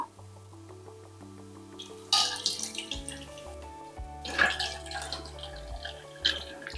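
A ground juice mixture is poured, giving splashy liquid bursts and trickling over a bed of steady low background tones, with louder pours around the middle and a shorter one near the end.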